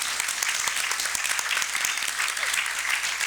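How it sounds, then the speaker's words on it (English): A seminar audience at an agriculture and climate talk gives a short, dense round of applause, steady and fairly loud from start to finish. "One more round of applause and head next door."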